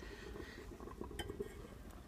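A cover is set on a pot of simmering pea soup, giving a few light metallic clinks near the middle over a low steady kitchen hum, with no talk.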